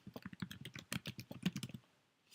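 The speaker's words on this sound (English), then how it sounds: "So I'm just going to type in here my domain name." Quick, close taps on a computer keyboard as a domain name is typed in, a rapid run of crisp key clicks that stops abruptly, with no voices.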